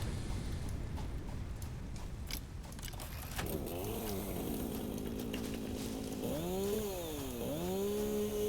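A chainsaw in the video game Satisfactory revs steadily with a droning motor, rising and falling in pitch as it cuts. The sound is close and continuous under game ambience, with no talking.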